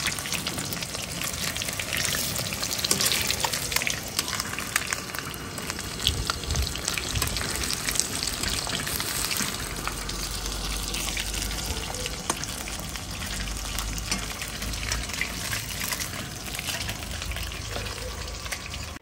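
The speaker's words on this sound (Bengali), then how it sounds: "এখানে তোমাদের কিন্তু এক্সপার্ট দাদা সুন্দর করে মাছগুলো ভাজছে।" Small pieces of fish for chilli fish fry in a pan of hot oil, giving a steady, dense, close sizzle and crackle that runs unbroken throughout, with a faint low rumble beneath and no talk.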